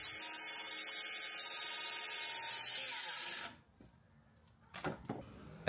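Circular saw cutting board-and-batten siding, a loud high whining cut that runs steadily for about three seconds and then winds down, followed by a couple of short knocks and clatters.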